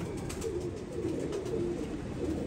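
Royal Teddy pigeons in a breeding setup give soft, low, repeated coos that overlap in a gentle continuous murmur, close by and fairly quiet.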